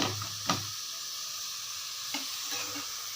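Onions fry in a pan while being cooked for a vada curry side dish, with a steady, gentle sizzle broken by a couple of sharp utensil knocks against the pan.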